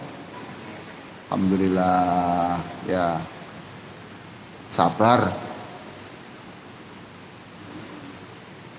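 Steady rain hisses throughout a lecture inside a mosque, a constant wash of noise under a voice that speaks in a few short phrases.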